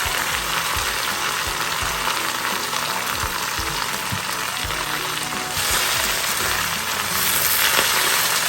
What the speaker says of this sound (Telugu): దీన్ని వేడెక్కిన ఆయిల్లో వేసి ఒకసారి ఫ్రై చేస్తాను.